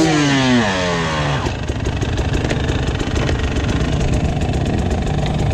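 A Husqvarna enduro motorcycle engine, a TE 300i or FE 450i, revs high and drops, then settles into a loud, rapid, rough idle close by while the clutch is worked.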